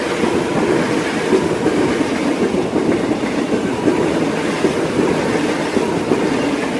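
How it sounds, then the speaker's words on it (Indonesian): A train rumbles past close by, a steady loud roar with rhythmic clacking of wheels over the rails, no voices. "kereta lewat."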